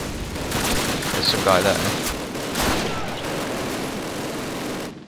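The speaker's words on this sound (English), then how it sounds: "He's got some sort of SMG that's going to be inaccurate shooting across here" Submachine gun bursts in Call of Duty, crackling through dense battle noise with scattered sharp shots and someone speaking briefly over the din.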